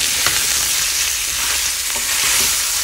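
Soaked soybean chunks fry with potatoes in a wok, a loud continuous sizzle broken by a few sharper crackles and scraping stirs.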